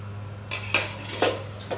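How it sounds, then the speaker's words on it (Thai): A steamer pot with its glass lid being handled, giving three clear clinks of metal and glass at steady intervals, close by, over a steady low hum. "ตัวนี้เป็นตัวซึ้งนะ อันนี้เป็นตัวหม้อ แล้วก็ฝา ฝาปิดจะเป็นฝาแก้วอย่างดีเลยนะครับ"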